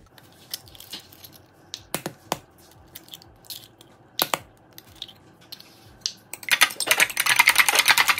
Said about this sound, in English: In this bowl, I'm going to take 4 eggs and then just whisk it slightly.